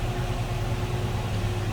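A 1964 Chevrolet Chevelle Malibu SS runs steadily at idle, heard from the rear as a loud, even, low rumble with no break.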